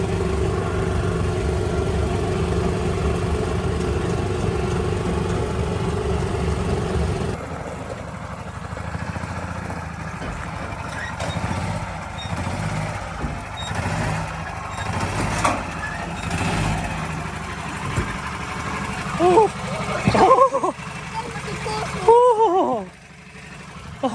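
An abandoned golf cart, driven off-road for the first time in years, hums and rumbles with a fairly loud motor and rattling for the first seven seconds, then continues more quietly with bumps and brief voices.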